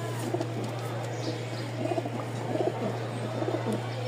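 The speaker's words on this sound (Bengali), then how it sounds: "অস্থির লেভেলের একটা কবুতর" Pigeons of a fine-feathered breeding stock coo softly and repeatedly over a steady low hum, the throaty calls rising in short bursts through the few seconds with no talking.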